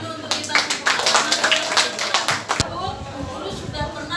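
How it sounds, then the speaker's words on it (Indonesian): A classroom group claps together, a burst of dense, scattered applause that fades after a couple of seconds into murmuring voices and shuffling. "tepuk tangan dulu untuk kita semua."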